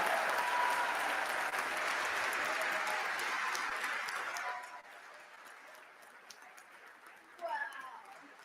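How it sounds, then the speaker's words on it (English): A large crowd applauds loudly for several seconds in the Texas House of Representatives chamber, then the clapping fades to scattered claps and murmuring. "Now you can applaud."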